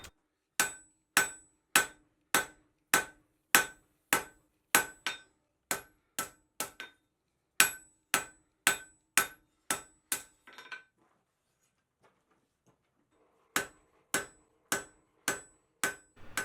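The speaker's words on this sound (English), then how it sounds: "Here I switched over to a lighter hammer to clean up the forging." Steel wolf jaw tongs being forged with a lighter hammer on an anvil: sharp, ringing blows in a fast even rhythm, several bursts of strikes separated by a brief quiet pause, loud and close.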